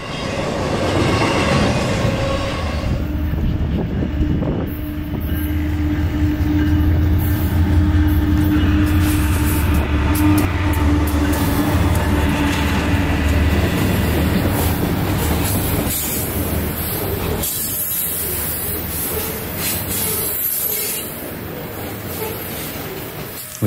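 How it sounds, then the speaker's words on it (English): A BNSF ethanol model train runs along a Texas-themed layout, its wheels giving a steady rolling rumble with clickety-clack rhythm and occasional squeals, close and continuous throughout. "We catch this ethanol train one last time along the Lonesome Texas Highway"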